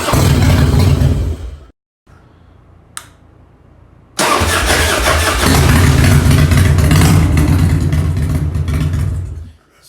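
A Harley-Davidson motorcycle engine from the 1989–2007 era, which has a starter fault, idles loudly, cuts out into near silence, then fires right up with a sudden burst and settles into a steady, loud, rumbling idle.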